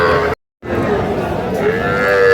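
Young calves moo loudly and close at a busy cattle market in Aftabganj, Dinajpur, a sustained bellow broken by a short silent gap, with crowd murmur beneath.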